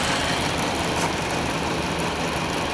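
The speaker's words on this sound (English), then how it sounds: "Yeah, she's running after 15 years." A 1998 Chevy Vortec engine idles steadily after sitting unused for more than a decade, its cylinders filled with oil and a little smoke coming from the exhaust, giving a continuous, even broadband drone close by with no talking.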